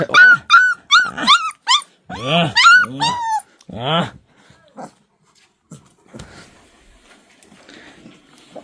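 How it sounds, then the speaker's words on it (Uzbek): A puppy lets out a run of high, close yelps and whines, then quiets to faint whimpers and small shuffling sounds. "Bobur, kuchukniga olib ketasiz, Bobur."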